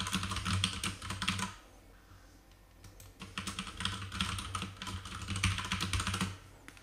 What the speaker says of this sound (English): I must type the report name in